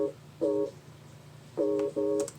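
Massive synth chord through a low-pass filter and RC20 effect, heard as four short muffled stabs in an uneven rhythm, fairly quiet over a faint hum.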